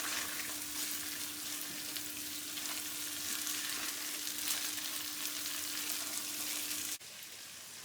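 Masala fries for a creamy chicken curry, a close, even crackling sizzle that carries on steadily with a low hum beneath, quiet and unbroken until it cuts off near the end; nobody talks.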